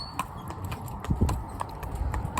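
Hooves of a chestnut Welsh Cob mare clip-clop steadily on the A30 road, a regular series of sharp hoof strikes over a low rumble of traffic noise, close by and moderately loud.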